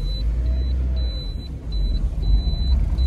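A Lada Granta backs up in reverse gear with a deep, steady engine rumble, and a high beeping tone repeats in an even rhythm above it.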